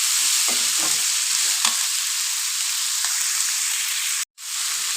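Steady, close sizzling of vegetables frying in a pan, with scraping stir strokes in the first couple of seconds and a brief dropout near the end.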